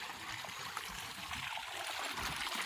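Borewell water gushes into a paddy field, a steady, soft hiss of flowing and trickling water, close and continuous with no voices.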